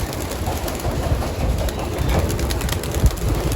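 A flock of loft pigeons is released and takes off together, with a dense, steady rush of wing flapping and soft coos close by. Background noise sits under it and a brief thump comes near the end.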